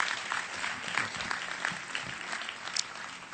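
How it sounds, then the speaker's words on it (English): Audience applause at the dedication ceremony for FDR Four Freedoms Park, a steady, fairly faint patter of clapping from a distant crowd with a few faint voices mixed in. "And let's give Tom Brokaw a round of applause for his generosity today and everything he does."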